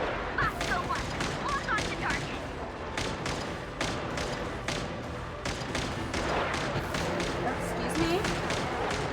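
Gunfire in Genshin Impact, a run of repeated shots and thuds over dense game noise, with a voice talking throughout.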